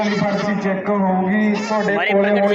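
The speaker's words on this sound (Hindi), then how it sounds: "हमारी बकरी की एंट्री हो चुकी है जो कि राजस्थान डिस्ट्रिक्ट श्री गंगानगर से आई है" A goat at a Punjab goat fair, brought from Sri Ganganagar in Rajasthan, bleats loudly and continuously at close range, its wavering, nasal cries filling the whole moment with a slight rise in pitch near the end.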